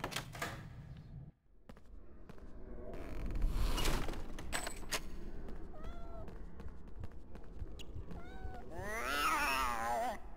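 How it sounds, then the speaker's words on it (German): A cat meowing inside the Harry Potter and the Philosopher's Stone video game, several short meows and a louder drawn-out caterwaul near the end, amid game footsteps and door noises. "Die Katze hat mich gesehen."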